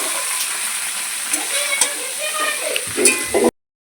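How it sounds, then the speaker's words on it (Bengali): Potatoes and figs fry in a pan, a steady bright sizzle running throughout with occasional stirring scrapes and clatter near the end before it cuts off abruptly. "তো এটা একটু ভাজা ভাজা হোক তারপরে মশলাটা দেওয়া হবে"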